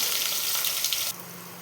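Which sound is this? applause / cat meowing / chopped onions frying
chopped onions frying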